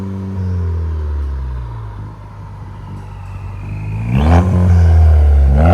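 2024 Chevy Colorado with a 2.7L turbo and straight-pipe exhaust revs up close by, a deep droning idle swelling into a louder, rising blip near the end.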